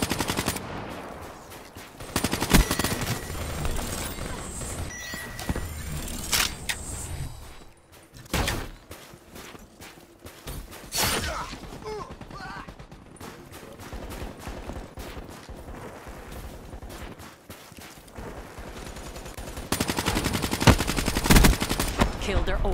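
Bursts of automatic gunfire and rapid shots in the Call of Duty: Black Ops III video game, loud clattering volleys separated by short gaps, with brief voice callouts mixed in.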